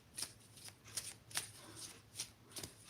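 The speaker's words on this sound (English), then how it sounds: "I think I need to shuffle the cards" Tarot cards being shuffled, quick papery riffles coming in six or seven separate bursts, close and soft.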